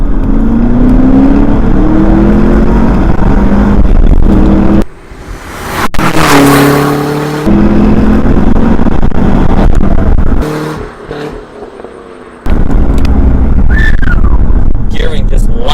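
2011 Cadillac CTS-V Coupe pulling hard in second gear, its engine rising in pitch through the revs, then breaking off briefly before surging again, loud and close with wind noise and gaps between pulls.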